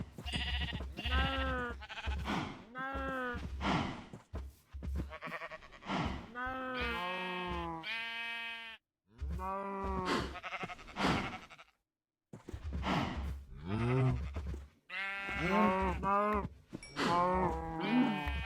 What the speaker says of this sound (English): the other sheep have gathered here, despite being let free from the pen.